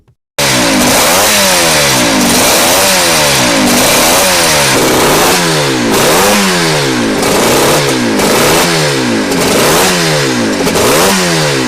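A Suzuki RG 500 Gamma with its 500cc two-stroke four-cylinder engine revs hard and loud up close, a repeated rhythmic cycle of rising, crackling blips and falling drops, about a dozen in a row with no talking.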